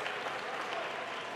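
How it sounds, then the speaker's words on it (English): Distant audience clapping at a Pokémon North American International tournament hall, faint and steady, with no voices over it. "You can hear some clapping, I believe."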